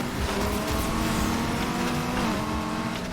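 An off-road build car in a racing video game roars continuously at high revs, its engine loud and unbroken, wheels spinning on pavement at the start of a race.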